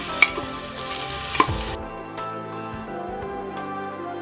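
Onion and chopped potato hit hot oil in a pan for pulao, with a couple of sharp clatters as they drop in, then a steady, even sizzle.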